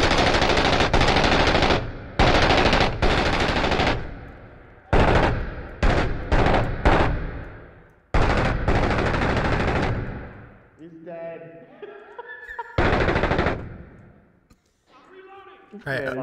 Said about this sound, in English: CQB with a fucking M249.